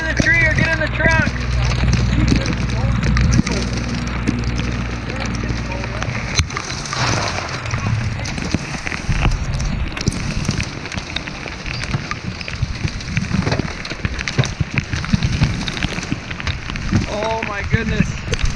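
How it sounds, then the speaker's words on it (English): A hailstorm with almost golf-ball-size hail falling: dense, loud, continuous hammering and clatter of hailstones striking surfaces nearby, with voices heard at times. "Almost golf ball size hail."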